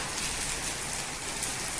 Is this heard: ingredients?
no